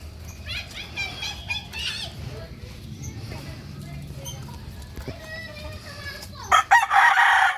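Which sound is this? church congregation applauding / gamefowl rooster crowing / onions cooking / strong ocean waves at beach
gamefowl rooster crowing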